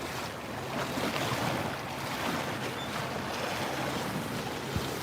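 Ocean waves slap and wash around a tour boat cruising toward Odaiba in Japan, a continuous rushing and churning roar mixed with wind buffeting the microphone, steady and fairly loud throughout.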